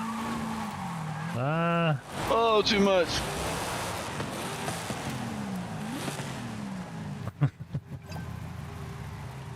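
Car drifting in Forza Horizon 5 during a tandem run, with rising and falling engine revs and tire squeal up front, then a quieter stretch and a few sharp clunks near the end, while a person makes brief exclamations.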